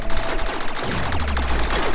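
Blind gunfire in the video game Rec Room, a dense burst of rapid shots firing continuously for about two seconds, loud and close, with no talking.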